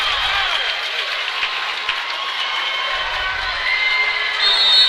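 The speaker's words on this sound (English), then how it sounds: "got this crowd on their feet" A high school basketball crowd cheers and roars steadily, the noise swelling louder near the end, with shouts and whoops mixed in.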